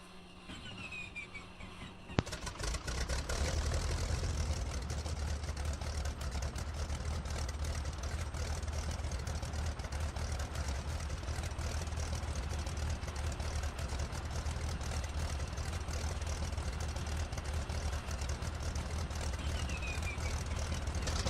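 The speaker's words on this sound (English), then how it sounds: "So now we'll get the engine started and jump into the pilot's nest for the Heinkel 111 H-16" A Heinkel He 111 H-16 bomber's piston engine starts up in a flight simulator game, a quiet whine giving way around two seconds in to a loud, steady low rumble that holds unbroken to the end.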